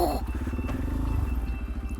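Motorcycle engine on a green lane trail, a close, low, throbbing idle with a steady rhythmic pulse that briefly swells then settles.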